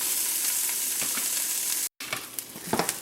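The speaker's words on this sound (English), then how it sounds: "Give them a stir, and let them cook for a couple of minutes." Tomatoes cooking in a pan, a dense continuous sizzle with a brief break, then several spoon scrapes and taps as they are stirred, close up.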